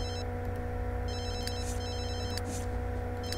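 A phone rings in The Sims 3, with repeated bursts of bright electronic ringing over a steady hum of game music and ambience.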